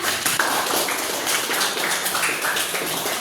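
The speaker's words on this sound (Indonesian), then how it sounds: "Ya, tepuk tangannya mana?" An audience claps in a university classroom, a steady patter of applause that holds evenly for several seconds with no voices over it.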